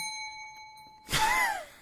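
A single bright bell ding sound effect rings out clearly after a short stretch of faint steady tones, then fades with a ringing tail.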